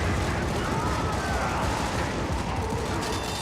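Artillery fire in the video game Helldivers rumbles as a dense, continuous barrage of booms and crackling blasts, loud and unbroken, with some voice mixed underneath.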